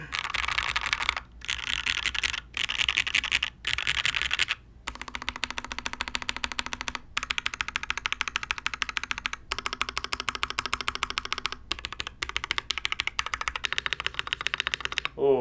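Rapid, steady typing on a rebuilt Noxary 378 mechanical keyboard, close and crisp, with dense clacking keystrokes broken by a few short pauses and occasional heavier spacebar hits.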